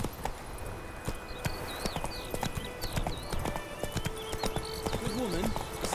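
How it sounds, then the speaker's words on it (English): Horse hooves clip-clopping on a road in The Witcher 3 video game, a steady close rhythm of hoofbeats under a voice and other speech, with a brief whinny-like tone near the end. "Whoa there, Roach."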